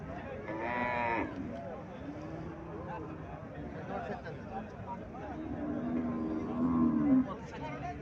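An eight-day-old Sahiwal calf moos twice at a cattle market in Cumilla, a short call early and a longer drawn-out one near the end, with people chattering in the background.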